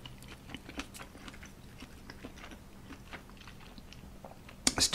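Chewing crispy lechon kawali, Filipino fried pork, close up, with steady crunching bites and wet mastication and a louder crunch at the end.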